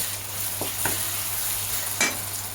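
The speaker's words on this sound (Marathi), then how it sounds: "ह्याला परतून घ्यायचं आहे 1 मिनिटासाठी" Cluster beans sautéing in a pan with onion-garlic masala, ginger-garlic paste, turmeric and salt give an even sizzle, with a few short scraping stirs heard close by and no talk.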